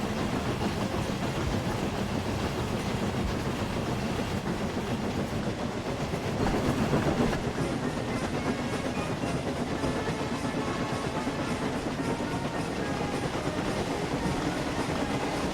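A train runs steadily on rails in the Train Sim World game, a continuous rumbling roll with a faint rhythmic clatter of wheels and no voices.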